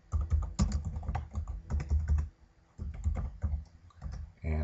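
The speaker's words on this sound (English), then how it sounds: "So we're going to type in" A name is typed on a computer keyboard, a quick run of close, crisp key clicks in short uneven bursts with brief pauses.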